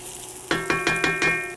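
Onions frying in a pan for chana masala, a close, bright sizzle swelling in four or five quick pulses as they are moved about, with no talk.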